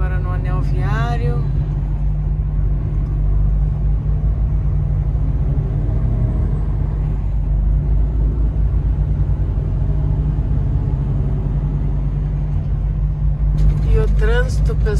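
Inside a car on the Bordeaux ring road in slow traffic, a constant low road and engine rumble fills the cabin for the whole stretch, with someone talking briefly at the beginning and end.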